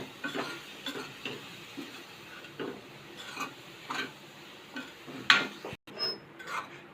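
Dry soya chunks are stirred and tossed in a pan of spiced tempering with repeated scraping and light clattering, plus a faint sizzle, at a steady, unhurried pace.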